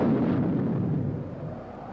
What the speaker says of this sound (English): Man's rocket takeoff on an amazing voyage of exploration